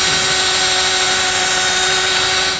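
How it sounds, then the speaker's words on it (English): A power drill with a step bit bores out a hole in a steel base plate bracket on a 2021 Jeep Wrangler, giving a loud, continuous high-pitched whine with a steady tone throughout. "I'm going to just drill this out using a step bit"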